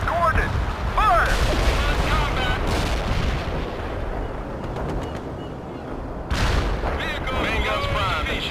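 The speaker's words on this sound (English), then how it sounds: "Heavy artillery, receive coordinates. Fire!" Heavy artillery barrage in the World in Conflict strategy game, loud continuous booming and rumbling shellfire across the whole stretch, with a brief lull before a fresh burst of blasts, radio-style unit voices faintly mixed in.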